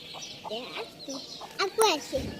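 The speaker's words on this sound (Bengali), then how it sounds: "এটা হচ্ছে আমাদের মুরগি বাচ্চা সহ" A hen with her chicks clucks in short, soft, irregular bursts close by, with a few higher peeping calls mixed in.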